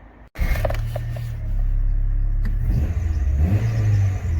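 A Rover 214 engine cranks and catches after a brief pause, then settles into a steady mid-pitched idle with a light rev, close by and with no talking over it.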